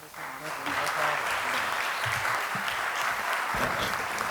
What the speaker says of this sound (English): Let's have one more big round of applause for this group